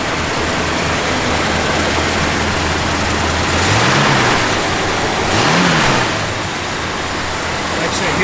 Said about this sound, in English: Car just runs smooth as can be.